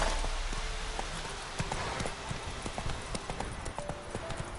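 Hooves of the horse Roach in a video game: a steady clip-clop trot, close and clear, over a constant background ambience.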